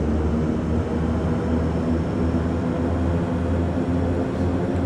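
Simulated King Air turboprop engines in Microsoft Flight Simulator hold a steady, loud, dense drone as power comes up for takeoff, with no voices over it.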